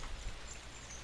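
Steady rain pours down in a video game, a dense even hiss filling the whole moment with no pauses, close and moderately loud.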